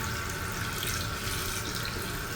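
Toilet tank refilling after a flush on a 1.6-gallon fixture with newly replaced tank parts: a steady, close hiss of rushing water runs unbroken throughout, no voices.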